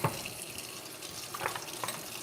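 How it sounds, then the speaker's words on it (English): Cold water runs from a kitchen tap over cooked pasta noodles in a pot, a continuous splashing rinse with small gurgles and uneven bursts as the stream hits the noodles. "I'm going to rinse them quickly with cold water just to get the starch off them"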